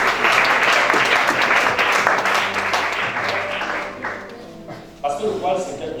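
A church congregation applauds loudly during a Sunday service, dense clapping that fades toward the end while a voice speaks over it.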